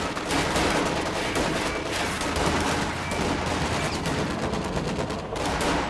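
Dense, continuous gunfire fills a war strategy video game battle, with overlapping rifle and machine-gun bursts forming a loud, unbroken clatter of combat and no clear speech.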